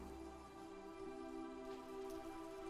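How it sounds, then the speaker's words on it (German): Steady rainfall in the farming game Deiland, a soft, even patter of drops on surfaces with a faint tonal music bed running underneath, calm and continuous throughout. "Es regnet immer noch."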